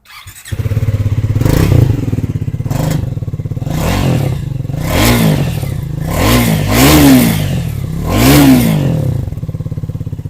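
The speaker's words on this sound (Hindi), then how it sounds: "लेकिन अब मैं तुम लोग को है ना इसका स्टॉक एग्जॉस्ट नोट सुनाता हूँ" Stock exhaust of a Triumph Thruxton 400 cafe racer motorcycle, revved repeatedly in sharp rising and falling blips, loud and close with a rough mechanical edge and no talking.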